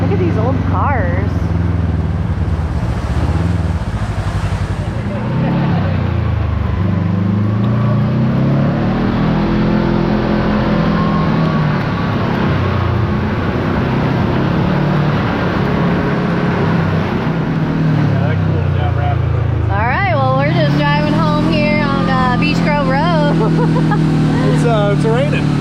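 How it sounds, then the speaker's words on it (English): Engines of old cars rumble and rev at a busy fuel stop in the Ozarks, loud and close, rising and falling throughout, with people talking over them. "Look at these old cars."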